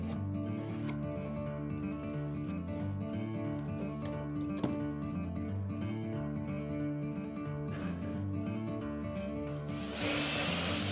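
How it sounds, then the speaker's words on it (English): A power drill driving pocket screws into a wooden joint, a steady motor whine with dense harmonic tones running continuously and close, and a sharper burst of broadband noise near the end. "you drive the pocket screws home"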